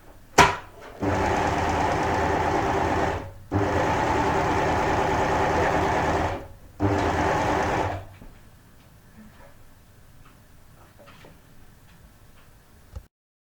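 An Amber Air S400 sewing machine stitches a blind hem in three steady, loud bursts of rapid needle ticking separated by short pauses, followed by quiet handling noises.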